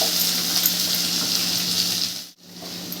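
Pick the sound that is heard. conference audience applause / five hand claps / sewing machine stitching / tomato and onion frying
tomato and onion frying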